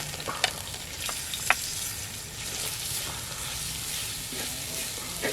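Grated coconut roasts in hot oil in a large pot for a Kerala-style dish, giving a steady close frying sizzle with scattered crackles and pops throughout.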